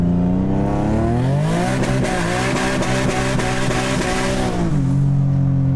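A single-turbo Infiniti G37 with an automatic gearbox accelerates hard at full throttle. Its loud, rising engine note climbs steadily through the revs for several seconds with rapid pulsing, then drops back near the end, close and without talk.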